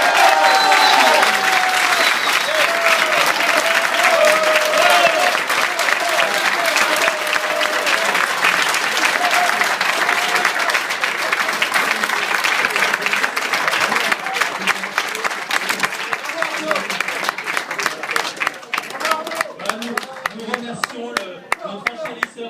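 Loud, sustained applause from a crowd in a street art auction room after a winning bid of 125,000, steady dense clapping that thins toward the end into scattered claps, with voices mixed in.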